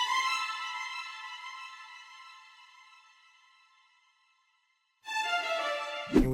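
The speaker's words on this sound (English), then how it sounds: "SRX strings, the default preset. I love the string runs." Default SRX Strings preset in FL Studio playing a bright string run, a sustained harmonic-rich phrase that fades out to near silence, then a second run enters around five seconds with a sharp low-end hit at the end.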